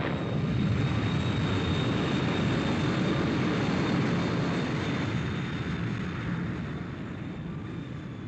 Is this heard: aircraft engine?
yes